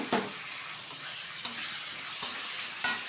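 A ground paste of cumin, ginger, chili, garlic and tomato sizzles in hot oil with frying onions for an omelette curry, a continuous crackle broken by several sharp spatula knocks against the pan.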